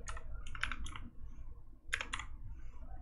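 Keys clatter on a computer keyboard in two short, quick bursts of typing separated by a pause, close and fairly quiet over a low background hum.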